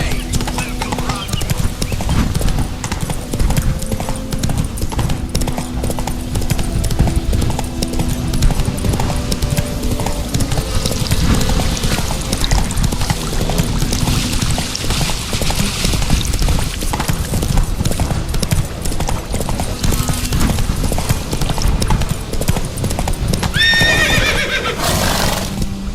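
A horse in The Witcher 3: Wild Hunt gallops hard through the tense final battle with Eredin, loud drumming hooves over dense music and battle noise, with a sharp whinny near the end.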